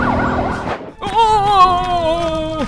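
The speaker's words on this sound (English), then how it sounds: "Ambulance 247 is here." An ambulance siren wails loud and close, then drops out for a moment and switches to a steady, piercing tone that holds to the end.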